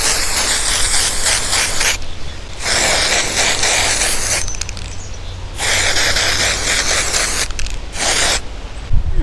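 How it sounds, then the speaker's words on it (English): Neon orange hairspray sprayed onto hair in four long bursts, loud and close, separated by short pauses. "So I've got some neon orange hairspray that I'm gonna use here"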